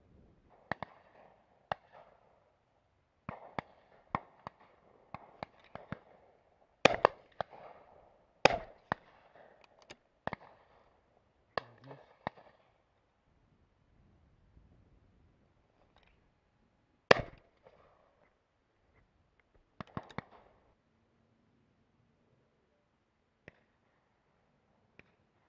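Shotguns fire at a pheasant shoot, sharp cracks in scattered bursts of two or three, some near and loud, others faint and distant, with long quiet gaps between volleys outdoors.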